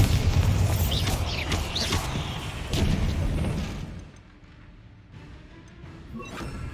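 Bombarda and Confringo spells explode in Hogwarts Legacy as heavy, booming blasts overlapping with crackling bursts, loud and close, then thinning out into a quieter rumble with scattered debris sounds.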